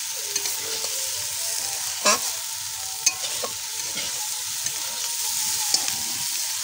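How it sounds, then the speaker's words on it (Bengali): Fried potatoes and cauliflower stir-fried together in a pan, a steady close sizzle broken by a few sharp scrapes and clatters of a spatula. "আলু ফুলকপিগুলো সব কিছু একসঙ্গে আরেকটু কষিয়ে নেব"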